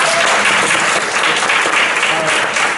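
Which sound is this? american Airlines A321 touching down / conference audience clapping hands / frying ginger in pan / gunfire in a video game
conference audience clapping hands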